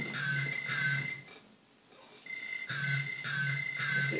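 Mobile phone ringtone chiming in repeated bursts of a bright electronic melody, two rings, a short pause, then two more, fairly quiet and heard alone in a theatre setting.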